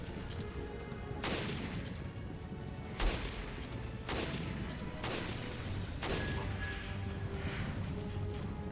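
Rifle gunfire in Resident Evil: Revelations Raid Mode, a handful of loud, sharp shots spaced about a second apart, each with a ringing tail over a steady game background.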